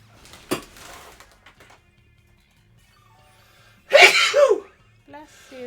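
One sharp, loud human sneeze bursts out over quiet game background sounds, with brief speech before and after it.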